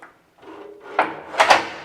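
Quiet Ride stud door on a 2025 4-Star four-horse head-to-head trailer being opened, a soft metallic latch click followed by two sharper clunks close by, quiet overall.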